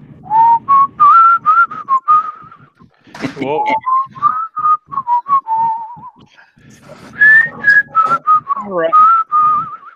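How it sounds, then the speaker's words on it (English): A person whistles a lively, wandering tune in short bursts and longer phrases, close and loud, with a brief spoken exclamation partway through. "How about just some good old fashioned whistling?"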